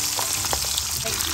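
Chicken sisig frying in hot oil, a steady, dense crackle and sizzle running throughout at an even level.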